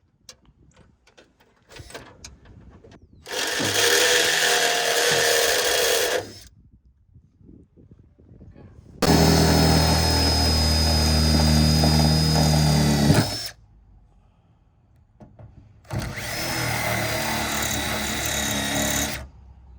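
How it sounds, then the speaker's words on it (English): A power drill bores holes in the plastic housing of a car's rear spoiler on an SRT. It runs in three long bursts, each a loud steady whine lasting several seconds, with quiet pauses between them. "we're drilling holes there to hopefully get the screws in and then get the wing on,"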